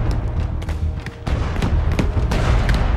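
Cannon fire in Shadow Tactics, a stealth video game: a loud rolling barrage of booming shots and sharp cracks in quick irregular succession, briefly easing before resuming at full strength.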